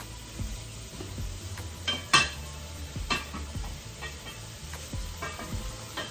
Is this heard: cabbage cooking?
yes